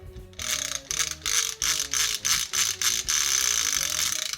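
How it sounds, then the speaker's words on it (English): The yellow fan on a Rambo Swampdog toy vehicle spins with a ratcheting clatter, coming in about eight quick rhythmic bursts that then run together into a continuous whirring rattle, close and fairly quiet. "you're going to push this and spin the yellow"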